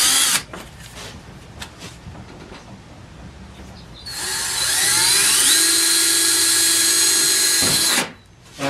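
Power drill boring holes through a metal side trim panel: a low background whine, then a loud, steady high-pitched grinding bite through the metal for several seconds before cutting off abruptly.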